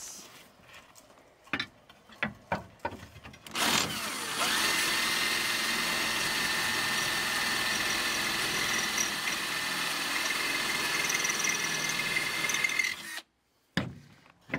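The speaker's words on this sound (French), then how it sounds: "Il faut que je perce." Power drill boring through a roof during renovation work, a long, steady, loud whine lasting about nine seconds after a few scattered knocks and handling clatter, then stopping abruptly.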